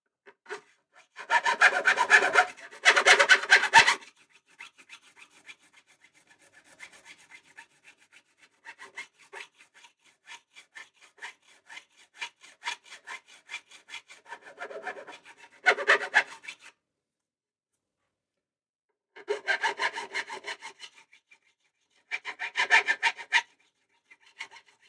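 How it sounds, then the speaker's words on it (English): A luthier files a guitar part by hand. Close, dry rasping strokes come in rhythmic clusters of quick back-and-forth scrapes, separated by brief silent gaps. "I just got to hit them with a file and it'll be fine."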